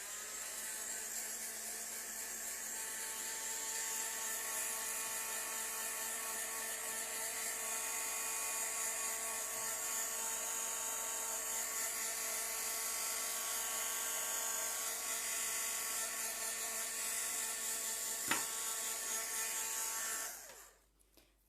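A heat tool blows hot air to quick-dry white gesso on a scrapbook layout, a loud continuous whirring hiss holding steady for about twenty seconds before cutting off abruptly.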